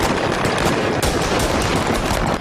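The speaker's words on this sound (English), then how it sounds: "we ordered the tires to be shot out" Sustained gunfire aimed at a plane's tires: a dense, loud, continuous burst of rapid shots, close and unbroken, with no talk.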